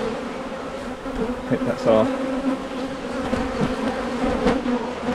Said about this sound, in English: The bees are working it, right at the very bottom.